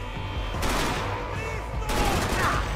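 Gunfire in the video game Max Payne 3 comes as two bursts of rapid shots over a steady background rumble, fairly loud and without speech.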